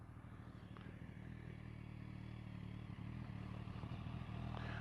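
Motorcycle engine idling or ticking over before a ride toward Borley Church, a low, steady throbbing rumble with faint rattles, quiet and continuous.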